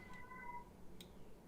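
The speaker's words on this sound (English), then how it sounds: "I heard a scream. What's going on? it's my cat." A house cat yowls in a brief, drawn-out, wavering cry followed by a couple of faint clicks, heard at moderate distance over quiet room noise.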